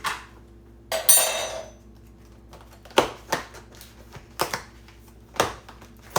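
A plastic lid being pressed and forced onto a salad container, a crinkling rustle followed by several sharp plastic snaps and clicks spaced out over a few seconds, close and fairly quiet between the bursts.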